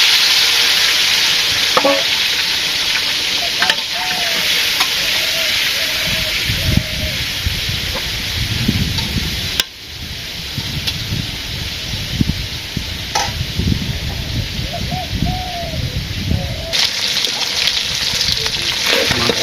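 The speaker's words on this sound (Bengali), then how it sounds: "মাছটা ভাজি করবো এখন" Fish fries in a pan of hot oil in a home kitchen. A loud, continuous sizzle and hiss run throughout, with the occasional clink of a utensil and some stirring noise. No one speaks.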